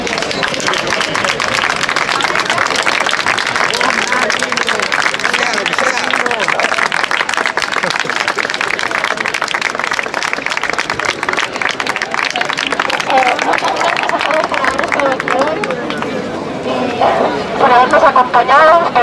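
A crowd at an outdoor 15M gathering in a porticoed plaza in Santander claps loudly, sustained dense applause with voices and cheering mixed in throughout.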